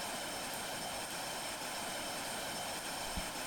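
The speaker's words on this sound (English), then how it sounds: "Right, let's crash the plane and go back to work." In the Roblox video game, an airplane engine gives a steady, loud, hissing drone that fills the whole stretch, with a brief dull thump just before the end.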